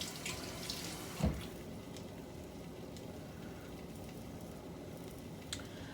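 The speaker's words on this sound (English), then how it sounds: "Wash my hands, get the egg off my fingers." Hands are washed under a running tap at a kitchen sink, a faint steady hiss of water with a brief splash early on and no talk.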